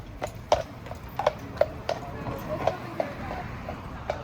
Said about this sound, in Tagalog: Mayroong kabayo dito sa Victoria, guys.